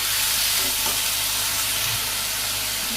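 Potatoes, onion and green chili sautéing in a pan in a village kitchen, a steady close hissing sizzle with faint stirring scrapes, no voices.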